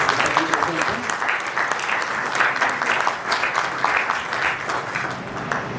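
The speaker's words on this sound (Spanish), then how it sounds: "para que pida un aplauso" An audience applauds at a talk in Texcoco, a steady crowd of clapping hands that holds at an even level from start to finish.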